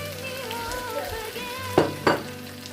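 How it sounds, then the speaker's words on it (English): Chopped meat sizzles as it drops into a pot of yam pottage with palm oil, giving a soft steady frying hiss and two sharper bursts near the end. "And then I will go ahead and add my chopped up meat"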